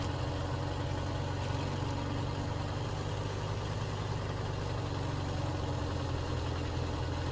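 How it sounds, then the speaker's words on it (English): A truck engine idles steadily in the off-road driving game Snowrunner, a deep, continuous rumble with a low throb that holds at even loudness throughout, with no talking over it. "you listen to the engine, it's actually pretty grunty"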